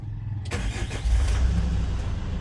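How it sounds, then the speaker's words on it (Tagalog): A Hyundai Grand Starex with a D4CB diesel engine starts with a sharp crank and catches, then idles with a steady, loud rumble. "So ayan, umaandar na yung makina natin."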